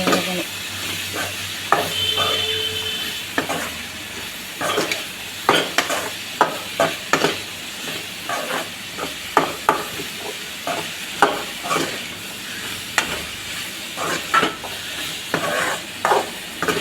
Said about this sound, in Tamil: நல்லா வதங்கினோன்னா பீட்ரூட் எல்லாமே போட்டுருங்க.